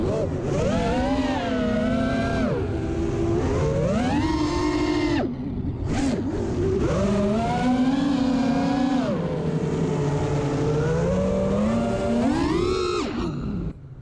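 An FPV racing drone with Racerstar 20A ESCs on a 6S battery whines loudly at full throttle, its motor pitch rising and falling through repeated surges with a brief dip in the middle.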